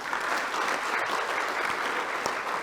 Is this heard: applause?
yes